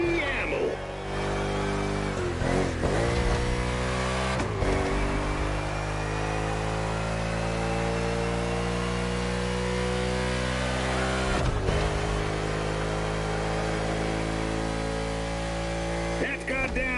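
A race car in The Crew Motorfest holds a loud, steady engine drone with strong harmonics throughout. Brief gear-shift dips break it up, and a voice can be heard faintly beneath.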